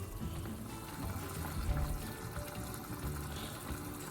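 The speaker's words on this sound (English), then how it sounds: "I've poured my khao piak into a bowl" Khao piak, a Lao chicken noodle soup, is poured into a bowl in a continuous, close, moderately loud liquid splashing that holds steady throughout.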